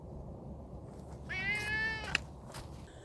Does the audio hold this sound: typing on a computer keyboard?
no